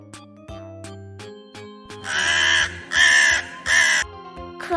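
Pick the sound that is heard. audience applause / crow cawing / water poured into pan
crow cawing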